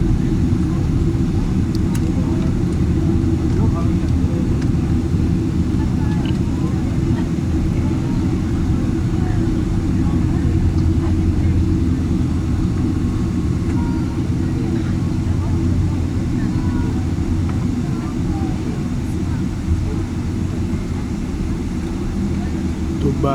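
An Emirates airliner in Dubai just after landing, heard from inside the cabin as a steady, loud low engine and rolling roar that holds unchanged throughout, with voices faint beneath it.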